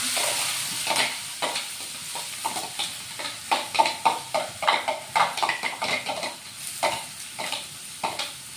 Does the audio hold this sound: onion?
yes